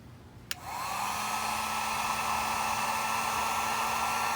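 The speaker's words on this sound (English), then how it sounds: "Grab your heat gun." A heat gun clicks on and then blows hot air in a steady, close, loud rushing roar while a car radio is being changed in a 1998 Toyota 4Runner.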